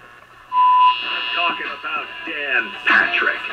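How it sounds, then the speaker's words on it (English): An RCA 56X5 tube radio from the late 1940s being tuned by hand: a steady tone and a wavering whine drift through hiss until a broadcast voice comes in and grows clearer and louder. "I wonder if we can tune this by hand by reaching in the back of the radio."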